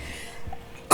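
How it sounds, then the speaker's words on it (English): An adult's sudden sneeze bursts out close by at the very end, sharp and loud after a second of quiet room noise while they are coming down with a cold. "I think I'm going to sneeze again."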